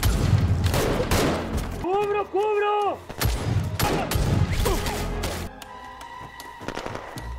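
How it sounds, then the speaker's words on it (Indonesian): Gunfire in an action film: dense, loud bursts of shots and impacts, joined midway by rising and falling musical tones. Under the firing, a voice narrates over the scene. "Josepho menembak dengan serampangan."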